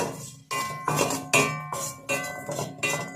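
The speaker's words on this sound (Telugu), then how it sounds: "ఇవన్నీ వేసి మనం బాగా వేయించుకోవాలా" A metal spoon stirs ingredients being dry-roasted in a pan for a hair-growth remedy. Seven clinking, scraping strokes come at a regular rhythm, close and fairly loud, with no talking.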